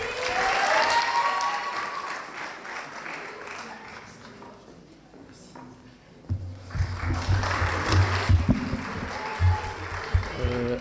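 Audience applause following a French-language talk, with a swell of clapping at the start that fades toward the middle, then a louder, fuller burst of clapping and crowd noise returning in the second half.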